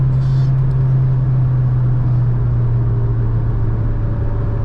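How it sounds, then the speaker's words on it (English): A mostly stock car with a cold air intake and a new clutch cruising on a night drive, giving a steady low engine drone and road rumble from inside the cabin at low revs, loud and unbroken. "I'm granny shifting like crazy"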